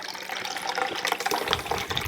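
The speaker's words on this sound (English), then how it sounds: "pour this into my creamy container." Shaken espresso poured into a Ninja Creami container, a soft continuous splashing trickle of liquid, close and fairly quiet, with no talking.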